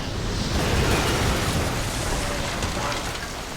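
A bomb explosion in the video game Max Payne 3 sounds as a loud, sustained roaring rumble of blast and debris, holding steady for several seconds and fading slightly at the end.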